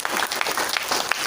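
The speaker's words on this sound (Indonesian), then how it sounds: "Beri tepuk tangan untuk Pak Kwancen." Steady applause from an audience at a business seminar, many hands clapping densely and evenly throughout, fairly loud and continuous.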